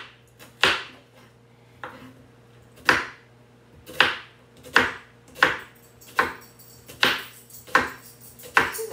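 A knife slicing onions on a cutting board, about a dozen sharp, evenly spaced cuts each ending in a board knock, close and crisp, no talking.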